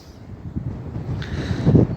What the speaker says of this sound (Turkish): bugün şiddetli rüzgar var.